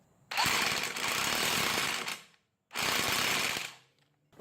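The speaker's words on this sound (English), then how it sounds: "I'm going to hit it with my impact gun a couple of times, make sure it's bolted down" An impact gun hammers down a scooter's variator nut in two loud, close bursts of rapid rattling, the first about two seconds long, then a brief pause before a shorter second burst.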